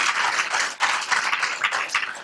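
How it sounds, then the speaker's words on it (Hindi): Audience at a yoga training camp applauds after a group chant of Om: dense, steady clapping from many hands, loud and continuous with a brief dip partway through. "इस ओम के लिए ताली बजानी चाहिए"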